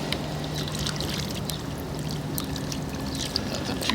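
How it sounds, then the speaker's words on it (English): Water pours steadily into a bucket through a Sawyer MINI water filter setup, producing a continuous close splashing trickle with small bright drips. "So you see I'm filling up my bucket here."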